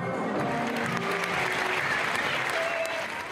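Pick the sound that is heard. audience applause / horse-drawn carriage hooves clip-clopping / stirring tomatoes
audience applause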